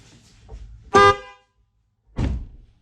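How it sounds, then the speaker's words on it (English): A new replacement horn for a Volvo V40 car, tested before installation, gives one loud, harsh honk of about half a second, then a second shorter, duller blast close by. "try to do a sound test first to see the new replacement horn still works"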